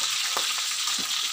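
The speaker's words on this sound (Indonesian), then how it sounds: "Ikan keli. Lagi sedang goreng ini" Catfish frying in a hot pan of oil, a dense steady sizzle with a couple of faint stirring bumps, close and alone.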